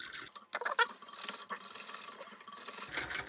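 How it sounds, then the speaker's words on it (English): A whisk scrapes and swishes rapidly through a drink in a container, a faint busy whirring texture with soft liquid splashes, close and alone. "you can get a whisk and whisk it"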